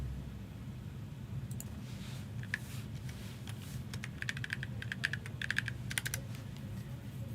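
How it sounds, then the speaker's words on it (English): Quiet typing on a computer keyboard, with scattered light key clicks that cluster into quicker bursts toward the end, over a steady low hum of room noise. "I'm going to start typing it out."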